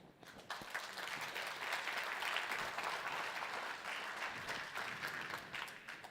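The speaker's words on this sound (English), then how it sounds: "Put your hands together for Y." Audience applause at an aviation jobs event, a sustained even wash of clapping from a fair-sized crowd, heard from some distance and quiet overall, with no voices over it.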